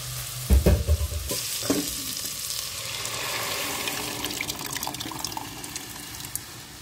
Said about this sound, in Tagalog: piniprito ko siya ng maayos para hindi nga siya malansa